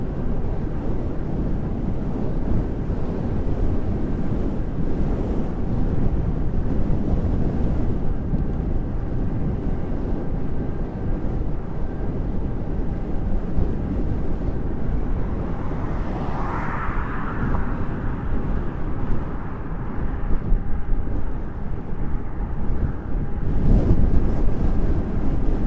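Steady wind noise roars over a small battery-powered aircraft flying into a headwind, a continuous broadband rush that swells slightly toward the end, with a brief whistling tone midway and no talking.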